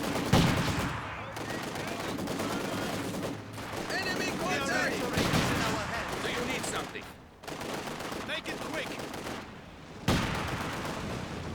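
Machine gun bursts and rifle fire crackle through a Company of Heroes 2 battle, with a Maxim gun and half-track engaging, dense overlapping shots rising and falling across the clip, brief lulls between volleys, and a commentator talking over the combat.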